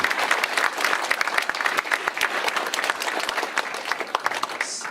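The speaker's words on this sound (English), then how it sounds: "applause" A smaller crowd at an opening ceremony gives a round of applause, individual claps distinct and rhythmic, moderately loud and continuous throughout.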